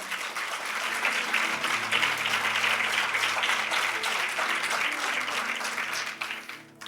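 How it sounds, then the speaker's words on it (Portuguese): Church congregation clapping in praise of Jesus at a Lisbon service, a fairly soft, continuous patter of many hands with a low sustained tone beneath and a faint voice near the end. "Isso, aplaude Jesus."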